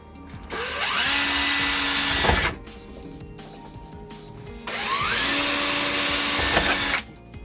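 A power drill boring holes into an RV shower wall, two sustained whining bursts of about two seconds each with a pitch that rises as the motor spins up, separated by a quiet pause, close and loud.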